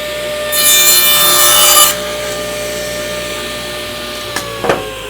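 A saw, set against a fence, makes one short loud cut through a small piece of scrap wood, a harsh rasping burst of about a second and a half over a steady machine hum, followed by a couple of light knocks.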